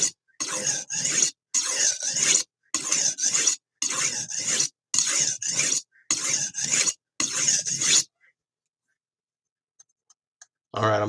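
A knife is sharpened on a sharpening stone in about eight firm, evenly spaced rasping strokes close by. The strokes then stop, leaving near silence with a few faint clicks.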